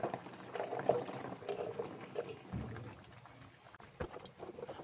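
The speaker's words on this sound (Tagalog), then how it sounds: "Takpan at hintayin kumulo." Coconut cream bubbling at a low simmer in a covered pot, a soft irregular patter of small bursts with a few brief clinks, close and fairly quiet.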